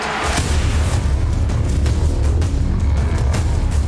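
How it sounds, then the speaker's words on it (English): A flashbang grenade goes off in a Counter-Strike: Global Offensive pro league match, a loud boom followed by a low, rumbling wash of game noise. "Good flashbang."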